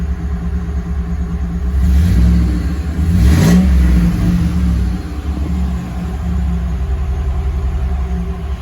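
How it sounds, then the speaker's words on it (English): A car engine fitted with a Novak tach emulator revs up twice in quick succession, rising and falling loudly above a steady idle rumble, then settles back to idle. "Rev it up."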